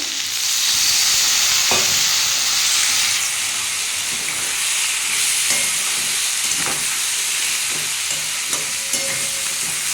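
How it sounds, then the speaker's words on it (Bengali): Spices are sautéed with fish head and bitter gourd, sajne in the pan, giving a continuous loud hissing sizzle with periodic scraping stirs from a spatula. "দিয়ে বন্ধুরা এটা একটু ভালো করে কষিয়ে নেবো"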